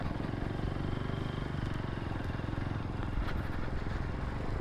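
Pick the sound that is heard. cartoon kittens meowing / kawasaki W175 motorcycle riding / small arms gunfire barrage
kawasaki W175 motorcycle riding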